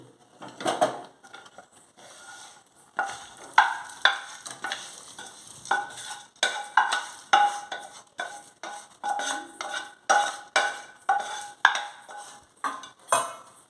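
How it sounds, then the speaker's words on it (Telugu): Dry fruits are stirred into kodo millet payasam in a metal pot. A spoon scrapes and knocks against the pot in a steady, repeated rhythm, close up and fairly loud, with no voices. "ఇవన్నీ యాడ్ చేసిన తర్వాత మంచిగా ఇదంతా మిక్స్ చేసుకున్నామండి"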